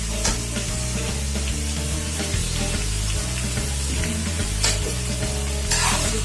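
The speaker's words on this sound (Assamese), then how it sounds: "কোমোৰাখিনি অলপ অলপকৈ দি লাহে লাহে লৰাই থাকিব।" Pieces of gourd added bit by bit to Assamese duck curry sizzle steadily in a hot pan, with intermittent scraping stirs over a constant frying hiss and background music.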